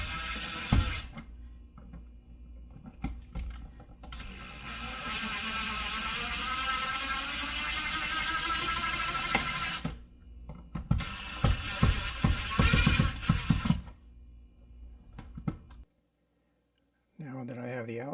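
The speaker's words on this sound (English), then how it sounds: "Now I'm going to proceed to drive these 832 screws into place with the bits slipping out over and over" A screwdriver drives 8-32 screws into an electrical outlet, with long stretches of close, loud ratcheting and whirring broken by clicks and short pauses, then a quiet gap before a brief final burst.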